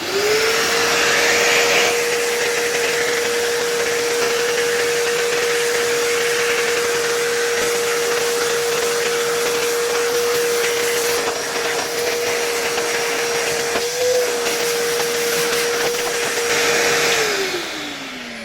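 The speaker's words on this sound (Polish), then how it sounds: "przyniosłem sobie tutaj odkurzacz, co prawda nie zabytkowy, tylko mój zwykły warsztatowy odkurzacz" An ordinary workshop vacuum cleaner whines at a steady, loud pitch for about seventeen seconds as it sucks dust from the parts of an OP101 radiator made by Termika in 1978. The motor then winds down at the end.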